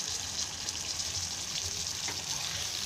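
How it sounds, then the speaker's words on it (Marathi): Pieces of rawas (Indian salmon) shallow frying in a pan over a lowered gas flame, giving a steady close-up sizzle and crackle throughout with a brief sharper spatter midway, and no voices. "मस्त हे कडक तळून घ्यायचे गॅस बारीक करून"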